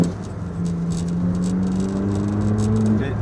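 A Ferrari 458 Speciale revs hard, its engine note climbing steadily for about two and a half seconds before cutting off sharply. It is close and loud, with no talk over it.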